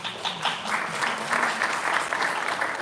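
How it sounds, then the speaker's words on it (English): Audience applauding panelists at a sheriff's office live event, a steady, dense round of clapping sustained throughout at moderate volume with no talk over it. "Let's give our panelists a round of applause again."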